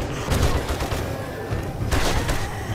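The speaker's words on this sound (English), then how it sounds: "How about some more SMG round shoot?" Submachine gun fire in 7 Days to Die comes in several rapid bursts of sharp shots over a steady background din.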